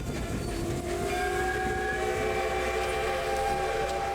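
A heritage train on the Kettle Valley Railway Museum scenic tour sounds a long sustained horn over the steady rumble and clatter of rolling cars, loud and close.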